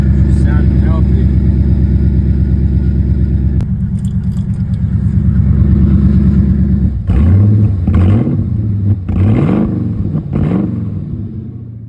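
A car cold-starting in deep snow: a loud, close engine idles with a steady rumble, then revs up several times in rising and falling surges while someone talks over it.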